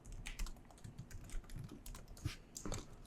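Fingers tap quickly on a computer keyboard, producing close, faint, irregular clicks in a continuous run with no voice over them.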